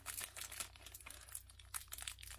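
Foil wrappers of Bewear GX trading card packs crinkle and tear close up in quick, uneven bursts of crackling, quiet and with no talk.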